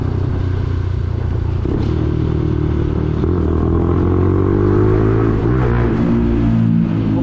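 Lexmoto LXR 125cc motorcycle engine on a night ride, giving a loud, steady mid-pitched drone with rising revs and wind rumble throughout.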